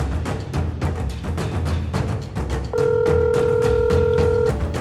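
A phone rings on and off under a busy, noisy background in a Bangla drama scene, with a steady electronic tone that turns louder and more prominent in its second half.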